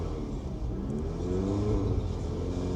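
A car on a Generation 5 MQB chassis accelerates as the throttle is pressed, its engine giving a low, fairly quiet rumble that rises steadily in pitch over a few seconds.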